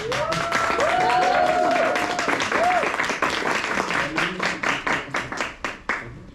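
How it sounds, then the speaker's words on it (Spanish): Audience applause at an international theatre research symposium, a sustained burst of clapping that thins into scattered individual claps before fading, with voices and cheers over the start. "por favor, un aplauso para ella"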